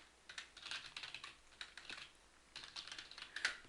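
Soft, rapid clatter of computer keys being typed in an uneven run, quiet and close, with brief pauses and a couple of sharper keystrokes near the end, no voices.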